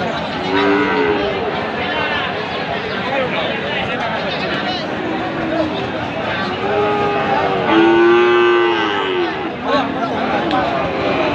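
A Friesian crossbreed bull calf moos repeatedly at a busy rural cattle market in Raniganj, the calls loud and close over steady crowd chatter and people talking nearby.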